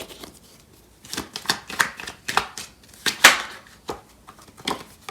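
Tarot cards being shuffled and handled by hand: a string of crisp papery riffles and slaps in irregular bursts, close and fairly quiet, with brief pauses between.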